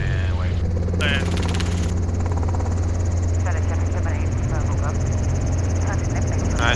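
Helicopter rotor and engine with the throttle rolled back up after a 360 spiral down toward a landing area, a steady loud whirring drone with chopping blade pulses throughout and a voice speaking briefly.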